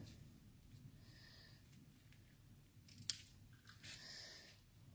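Scissors snip ribbon pieces for handmade Christmas cards: a few quiet, close cuts spaced over a few seconds, with one sharper snap near the middle and no talking.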